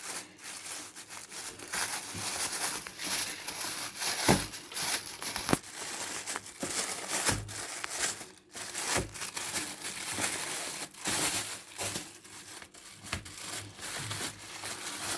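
Plastic stretch wrap or a plastic bag crinkles and rustles steadily while being spread to line a box for chocolate truffles, close and continuous with irregular crackling bursts and no speech.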